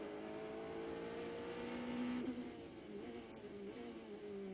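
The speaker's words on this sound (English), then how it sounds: "Down through the gears," Onboard a prototype sports car at the 2002 American Le Mans Series round at RFK Stadium, the engine note drops and rises as the driver changes down through the gears under braking, a steady loud drone with no talk.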